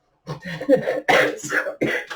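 A series of harsh, raspy coughs, several in a row, loud and close, in uneven bursts.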